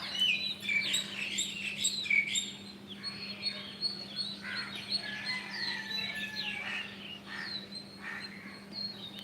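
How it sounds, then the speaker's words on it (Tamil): Several birds chirp and call in lively, overlapping bursts at sunrise over a steady low hum, with no voices. "எல்லா பேர்ட்ஸும் செம்ம ஸ்பீடு இங்கே பாருங்கள் ஒன்று உட்காந்துக்கிட்டே சத்தம் கொடுத்துக்கிட்டே இருக்கு"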